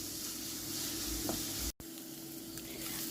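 Onions with salt sauté in a pan, a steady broadband sizzle held close and fairly full throughout, interrupted by a single brief dropout before resuming unchanged.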